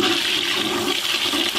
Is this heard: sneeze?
no